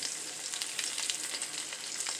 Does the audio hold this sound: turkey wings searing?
yes